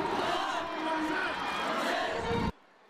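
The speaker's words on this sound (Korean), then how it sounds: "관중들은 남북 선수들에게 힘찬 응원을 보내며 통일을 기원했습니다" A packed stadium crowd of citizens and students cheers at a youth football match between North and South Korean players on a chilly day, a loud steady roar of voices and shouts that cuts off abruptly near the end.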